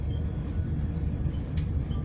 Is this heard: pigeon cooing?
no